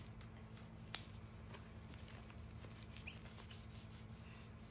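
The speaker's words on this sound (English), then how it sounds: "the microfiber actually gives it like a scrubbing feel without being harsh" A microfiber towel rubs and scrubs a golf club, giving a faint, steady rough rubbing with a few light ticks from close by, and no talk.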